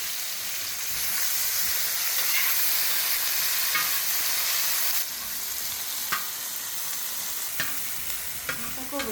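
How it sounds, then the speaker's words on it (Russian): Onion frying in oil in a pan, a bright, dense sizzle that holds steady close up, broken by a few soft clicks of stirring, no talk. "Зажарите лук и все."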